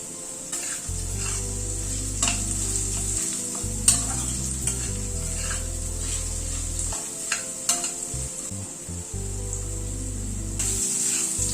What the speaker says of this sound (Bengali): নারকেলটা দিয়ে আবার একটু হালকা করে ভেজে নিলাম।